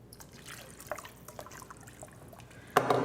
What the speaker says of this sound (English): I'm just gonna add enough water, just enough to cover my yams.